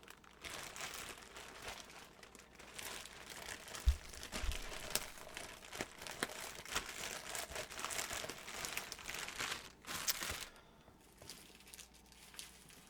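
A Mylar comic book sleeve is handled up close, giving a faint, steady crinkle and rustle with occasional small taps and crackles.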